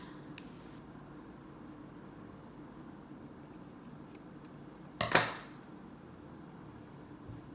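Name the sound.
scissors cutting leather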